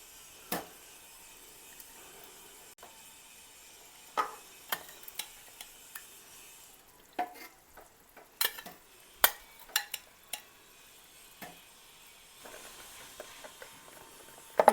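Curd being stirred and mixed in a cooking pot for Karachi biryani, scattered scraping taps and clinks of a spoon against the pot at irregular intervals, close and quiet with no voices.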